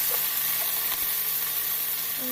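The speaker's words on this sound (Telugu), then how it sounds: "ఇప్పుడు వెల్లుల్లి, అలానే కరివేపాకు వేసుకొని" Garlic, curry leaves and dried red chillies frying in oil for a tempering, a soft steady sizzle with a faint stir or two, no voices.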